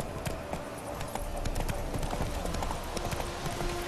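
Hooves of Geralt's horse Roach clip-clop at a steady trot in The Witcher 3, loud and rhythmic over a continuous game soundscape.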